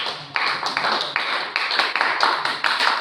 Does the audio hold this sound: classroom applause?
yes